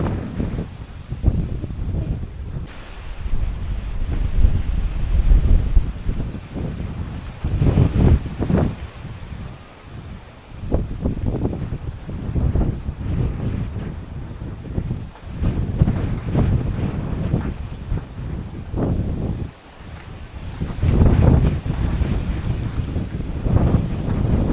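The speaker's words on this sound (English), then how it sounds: "we have some high winds happening." High winds roar across a rain-soaked banana garden, hitting the microphone in loud, surging gusts that rise and fall for the whole stretch, with no talking.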